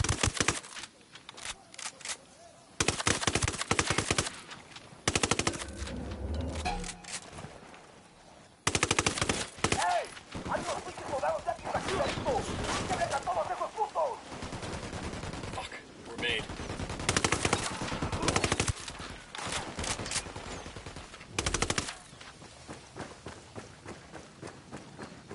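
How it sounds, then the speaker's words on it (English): Gunfire in the open-world shooter game Ghost Recon Wildlands, with bursts of automatic fire and single shots crackling in irregular clusters, some close and loud, others further off, alongside running footsteps. "Opening fire."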